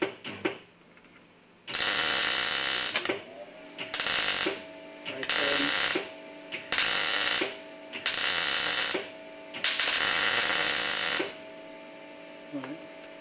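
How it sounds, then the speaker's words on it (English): Repeated bursts of welding crackle and buzz as a patch goes into thin old body metal on a Talbot Sunbeam Lotus, worked upside down. Seven close, loud bursts of a second or so are separated by short pauses. "being upside down is a little hard to weld, but that one went quite well"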